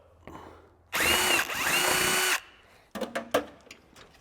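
Power tool with a small 8mm socket spinning out screws from a plastic skid plate under a Jeep Gladiator, one loud sustained whir of about a second and a half, then a few short ratchety bursts.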